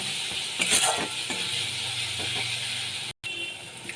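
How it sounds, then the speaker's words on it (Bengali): Spice paste with cumin powder is sautéed in a pan for a katla fish curry, giving a steady close sizzle broken by a few scraping stirs and a brief gap. "এক চামচ জিরে গুঁড়ো দিয়ে দিলাম ভালো করে মশলাটাকে আমি কষিয়ে নিচ্ছি"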